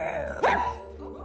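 A dog in a film gives a single sharp bark, loud and close, over a steady low background hum.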